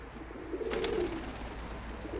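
A pet pigeon coos nearby, one low rolling coo swelling and fading over a steady background hum.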